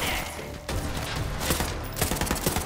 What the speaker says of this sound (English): I love when the teams just shoot their shotgun sometimes